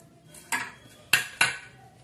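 A metal steaming mesh rack clinks as it is handled in a kitchen, three sharp metallic knocks, the first alone and the last two close together.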